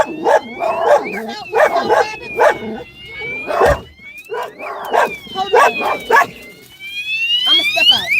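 A dog barks repeatedly in close, loud bursts, mixed with yips and a rising, siren-like whine, while people talk nearby.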